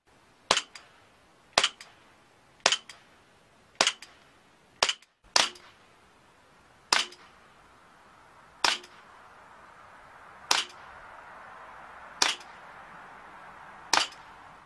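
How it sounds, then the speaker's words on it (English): Umarex Colt 1911 CO2 blowback BB pistol firing steel BBs at a 20-foot range: eleven sharp, crisp pops with slide clacks, spaced one to two seconds apart, close and alone with no talk. "So for a distance of 20 feet, we shot 18 BBs."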